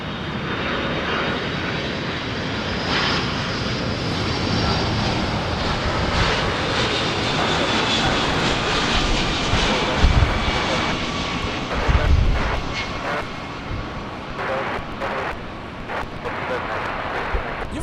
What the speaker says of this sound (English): Delta 321 flying in from Boston